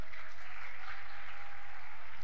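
A church congregation at a camp gathering claps together in a dense, even wash of applause that holds steady throughout, with no talking.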